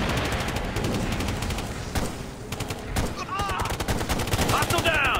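Rapid automatic gunfire and overlapping shots in a rooftop firefight in Ghost Recon Future Soldier, dense bursts cracking almost continuously, with shouted voices mixed in.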